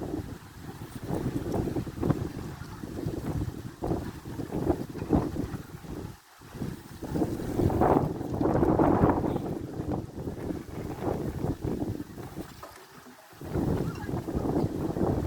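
Strong wind gusting and roaring across an open outdoor setting, with heavy buffeting on the microphone that swells and dips in long surges throughout, no talk heard.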